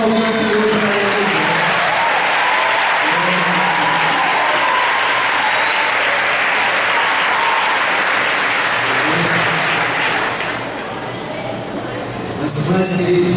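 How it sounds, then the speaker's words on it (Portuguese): A church congregation at an eighteenth-anniversary service breaks into steady, full applause that fills the room for over ten seconds, thinning briefly near the end before surging again. "Vamos aplaudir o Senhor para ele."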